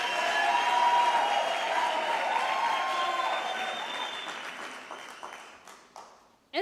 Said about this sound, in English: Another round of applause for these two groups,